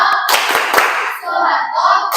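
Children clap through the rhythmic Tepuk Presiden game in a group, sharp hand claps dense at first, then thinning under a murmur of young voices.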